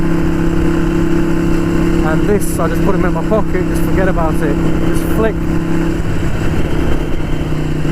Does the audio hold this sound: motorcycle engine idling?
yes